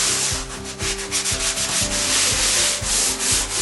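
Steady, continuous rubbing and scratching of sandpaper against a hard painted surface, close up, with a low machine hum running underneath throughout.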